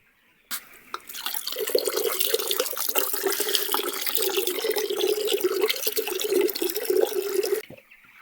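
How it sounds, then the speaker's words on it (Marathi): Water poured into drinker pots on a poultry farm, a 10-litre batch with a 500 ml dose split out 150 ml per pot; a steady, continuous splashing trickle runs for several seconds, close and fairly quiet. "आता प्रत्येक भांड्यामध्ये हे 150 ml आपण त्याच्यात टाकणार आहे"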